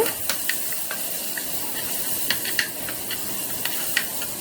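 Ginger garlic paste sautéing in a pan for prawn thokku, a soft steady hiss of frying with scattered light spatters and stir clicks, close but fairly quiet, no talking.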